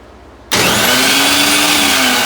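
A new wood router, bolted down, starts abruptly after a moment of low background noise and runs at a loud, steady high-speed whine close by.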